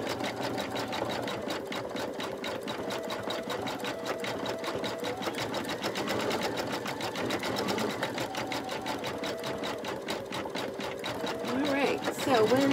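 An embroidery machine stitches continuously with a fast, even mechanical rattle, close and steady throughout, with a voice talking over it.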